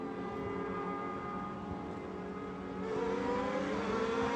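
Open-wheel race cars, including a red Swift Atlantic and a Ford, rev and accelerate as a final SCCA Super Tour race gets underway at Mid-Ohio, a loud, dense engine roar building further partway through.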